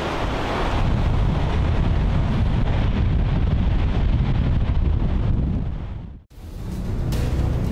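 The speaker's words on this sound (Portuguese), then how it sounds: "As rajadas de vento nesse dia, durante a passagem de um tornado, chegaram a 265 km por hora." Violent tornado wind gusts, reaching 265 km/h in Nebraska, roar as a continuous loud rushing blast that briefly cuts out and then surges back.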